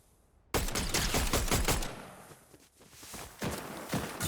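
Shots from the Hollow Twister in Fortnite ring out as a quick string of sharp reports, loud and close, then taper into quieter scattered impacts and footsteps before a few more shots near the end.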